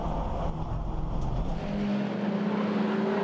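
Racing cars at Croft circuit accelerating past, a fairly distant engine roar that swells, with a rising whine emerging partway through as they get back on the power.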